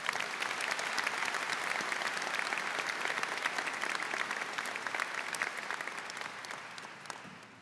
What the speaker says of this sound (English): And now, please, one round of applause for the Southside High School faculty in attendance.